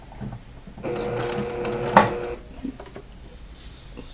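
A sewing machine runs briefly and close, stitching fabric squares for a small tote bag, with a short burst of stitching and a sharp mechanical clack before it stops, followed by light handling noise.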